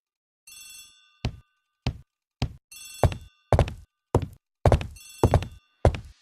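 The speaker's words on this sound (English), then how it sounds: "The telephone in the hall is ringing." An old-fashioned telephone bell rings in a hall in the video game Agatha Christie: The ABC Murders. Bursts of bright ringing alternate with sharp thunk-like knocks in an irregular series, clean and close with no voices.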